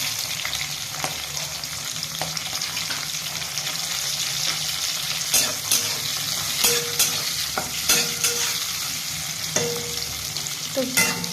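Onions and green chillies fry in oil for a Bengali fish dish, a constant close sizzle broken by repeated stirring scrapes and clacks of a spatula against the pan.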